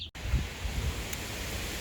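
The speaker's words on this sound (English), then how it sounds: "it's so windy today" Strong gusty wind outdoors near a duck enclosure, a broad steady rush roaring across the microphone with low buffeting rumbles, loud and continuous after a brief dropout at the start.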